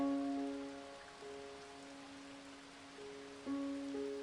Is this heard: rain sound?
yes